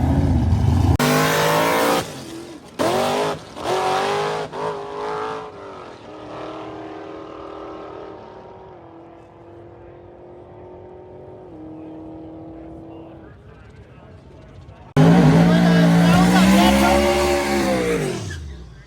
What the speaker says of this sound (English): we see Mike Finnegan go off doing a crazy wheelie